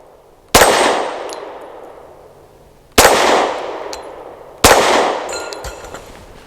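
Three loud, sharp pistol shots from a Taurus TS9 firing Winchester white box ammunition, spaced a couple of seconds apart, each ringing out with a long fading echo.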